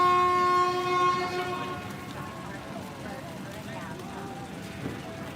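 A train sounds a long horn blast, then its cars rumble and clack as it starts moving out of a station in Thailand, the noise settling into a steady roll.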